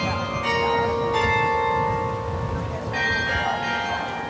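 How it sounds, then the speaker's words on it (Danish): Carillon bells of Vor Frelser Kirke in Copenhagen ring out in a steady sequence of overlapping, resonant strikes, the sustained metallic tones lingering over distant ambient street noise. "markeret med klokkespil herfra Vor Frelser Kirke i København"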